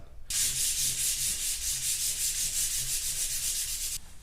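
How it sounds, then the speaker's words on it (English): A Bauer belt sander with a 120-grit belt runs steadily against wood, a continuous gritty hiss with a slight rhythmic pulse, starting abruptly and cutting off after a few seconds. "since the belt sander's at 120, I'm gonna go ahead and hit it with the 220 next"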